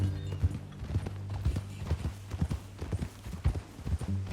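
Horse hooves clip-clop at a steady walking rhythm in the video game Red Dead Redemption 2, close and distinct over a low sustained hum.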